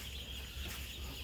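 Chickens in a poultry shed clucking softly over a steady hum of shed ventilation, faint and close, with no talk.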